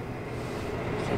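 Rear climate control fan of a 2023 Tesla Model Y running on high speed, a steady broadband whoosh of rushing air filling the cabin throughout, with no speech over it.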